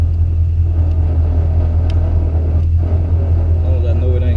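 A car with a crate 350 engine and 4.10 rear gears rolling off down a driveway, a loud steady low engine rumble filling the scene while someone talks over it.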